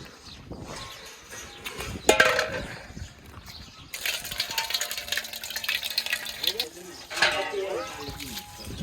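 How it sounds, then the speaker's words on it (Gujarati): A water tap runs steadily while things are washed, a close rushing stream with a few splashes. People talk over it throughout. "નળ ચાલુ કરું નાઈ ગયો"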